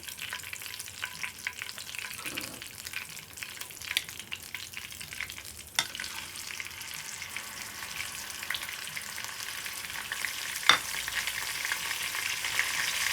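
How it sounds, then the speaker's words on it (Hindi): A slice of fish frying in hot oil in a pan, giving a continuous soft sizzle and crackle with occasional sharper pops and a utensil clink, close-up with no talking. "अगला स्लाइस डालते हैं फ्राई करने के लिए।"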